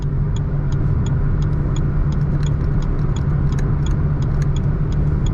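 A Toyota Taisor with a manual gearbox cruises on the highway at about 110 km/h, heard from inside the cabin as a steady, even drone of road and engine noise with faint intermittent ticking, no talking.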